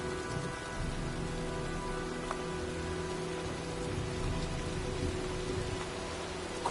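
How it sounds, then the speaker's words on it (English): A rainstorm in a PS4 video game, a steady even patter of rain on surfaces with a low background hum throughout. "Well, looks like a storm's coming."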